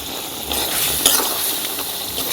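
Cooked pangas fish masala being broken up and stirred in a pan for fish biryani, with a steady close sizzle of frying and soft scraping strokes of a utensil running throughout.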